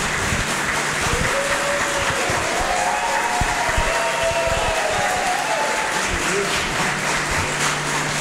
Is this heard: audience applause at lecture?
yes